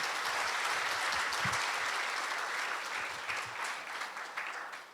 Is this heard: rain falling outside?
no